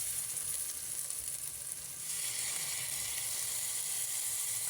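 Salan masala frying in a pan, with lemon juice being added, makes a steady close sizzle that grows louder and brighter about halfway through and then holds.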